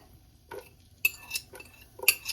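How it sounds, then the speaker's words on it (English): A utensil clinks and scrapes against a pot while onions are sautéed for Trader Joe's vegetable fried rice, with four distinct, close knocks spaced about half a second apart and only a faint sizzle beneath. "I'm finna saute these onions in this pot"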